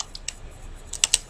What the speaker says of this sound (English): I want you to actually type shell.